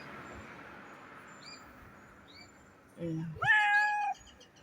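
A cat in Ashdod, Israel gives a short, clear meow near the end after a few soft sounds, close and fairly loud over quiet outdoor background.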